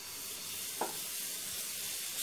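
Wheat sugar dosa batter sizzling on a hot pan, a steady soft frying hiss throughout with a brief brighter burst near the middle.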